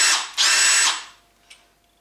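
A Bosch 18V cordless drill whirs in two short, loud bursts, the motor spinning up and winding down with a faint click afterward.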